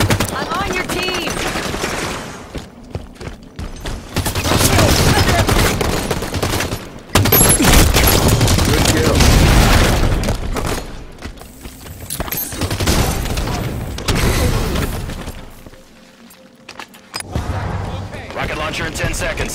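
Rapid bursts of automatic gunfire and heavy explosions from a Halo 5 Guardians online multiplayer match, loud and dense with short silent gaps between volleys.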